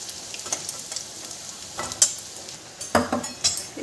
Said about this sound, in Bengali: হালকা আঁচ করে পনিরটা একটু নুন দিয়ে ভেজে নেব।